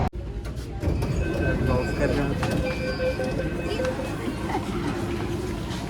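A metro train rumbles steadily through a station in Delhi, near Sarojini Nagar, with screeching wheel tones and background chatter mixed in.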